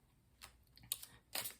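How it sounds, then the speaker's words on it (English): A few quiet, brisk rustling bursts of tarot cards being shuffled, each lasting a fraction of a second, with no voices. "Let's do some shuffling."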